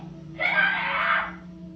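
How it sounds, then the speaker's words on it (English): A girl inside a house screams in one sustained, high, loud cry lasting about a second, picked up by a doorbell camera over a low steady hum. "It seems they only run off after the girl starts screaming"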